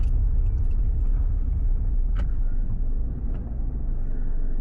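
A car drives through a back alley in Vancouver, giving a steady, close, broadband engine and tyre rumble throughout, with faint clinks on top and no talking.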